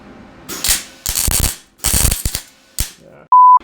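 MIG welder filling the gear teeth of a differential, heard as several short, loud crackling bursts with pauses between them, followed by a brief electronic beep.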